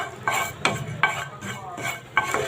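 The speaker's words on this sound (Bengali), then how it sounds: "এখন আমি জিরা আর পাঁচফোড়নটা দিয়ে দিব একটু ভেজে নিব" Cumin and five-spice seeds fry in hot oil in a pan, a soft steady crackle broken by several light metallic stirring clinks from a utensil, heard close and fairly quiet.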